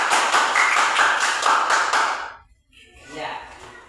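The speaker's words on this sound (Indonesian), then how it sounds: "Kita berikan tepuk tangan" A classroom of students claps for a group that has just finished its presentation. The applause is loud and dense for about two seconds, then fades out, and a voice starts speaking afterward.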